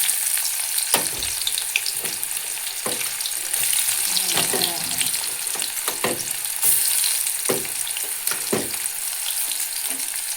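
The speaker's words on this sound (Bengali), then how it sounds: "তেল খুব ভালো করে গরম করে নিয়েছি, দিয়ে দেবো পেঁয়াজের কুচি" Chopped onion drops into hot mustard oil and fries with a strong, continuous crackling sizzle close by, while scattered clicks and stirring knocks from the pan recur throughout.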